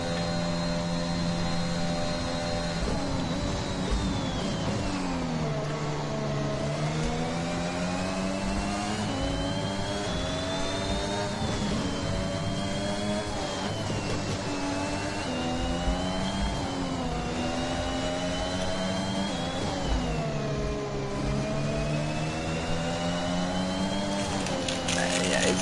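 Red Bull Formula-style race car at Suzuka in a racing video game, its high engine whine rising and falling through gear changes and corners, loud and continuous across the lap under steady commentary.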